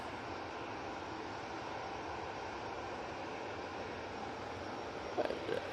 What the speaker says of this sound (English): Well, the beautiful Cathay Pacific A350.